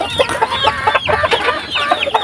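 Black crossbreed hens from an astrolop and native chicken cross cluck close by in a rapid, overlapping chorus of short, throaty calls that keeps going the whole time.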